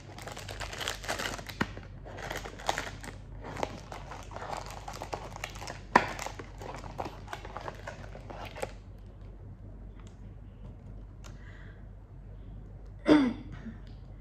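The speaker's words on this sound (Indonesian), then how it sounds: "Coba kita unboxing aja kali ya." Crinkling and rustling of Marc Jacobs Perfect perfume packaging being opened, with a stretch of dense crumpling in the first eight seconds, quieter scattered handling after that, and one sharp tearing burst near the end.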